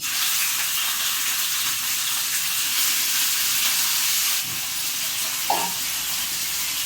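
Mutton pieces washed with turmeric and salt, dropped into hot oil, fry with a loud, steady, close sizzle and hiss that holds throughout, with a small clink near the end.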